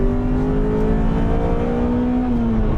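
Honda CRX at the Nürburgring with its engine howling at high revs as VTEC engages, a loud sustained whine with a slowly shifting pitch, close and continuous.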